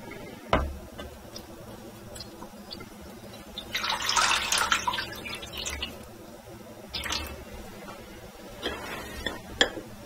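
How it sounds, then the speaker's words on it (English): Water is poured into a baking pan around crème brûlée dishes to make a water bath, coming through as a few short splashing and trickling bursts, moderately close, with quiet gaps between pours. "So I'm going to pour enough water in here so that it'll come up to about half the size"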